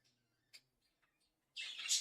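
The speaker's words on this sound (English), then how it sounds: "You hear the birds?" A few faint, scattered bird chirps, then a sudden louder burst of high, bright twittering near the end, with no voices.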